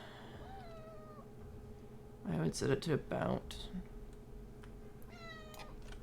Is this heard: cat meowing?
yes